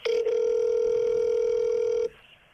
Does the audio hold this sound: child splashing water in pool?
no